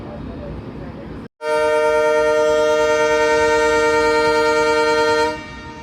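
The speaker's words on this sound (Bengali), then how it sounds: "হুইসেল দিয়ে দিল, এখনই যাত্রা শুরু হবে" A loud, steady horn blast from the Ovijatri Commuter train sounds at Srinagar railway station as it prepares to depart, holding about four seconds after a brief cut, then stopping abruptly, with background noise before it.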